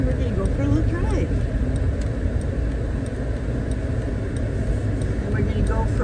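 Steady car road noise while driving Highway 72 from Bouse toward Parker, Arizona, a constant close engine and tire rumble throughout.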